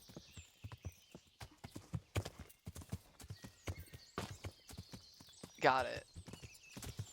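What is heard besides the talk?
horse hooves clip-clop in video game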